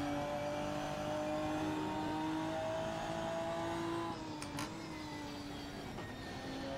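A race car engine in a racing video game, running on a player-tested setup, holds a steady high whine that shifts pitch as it revs and settles, loud and close with no talking.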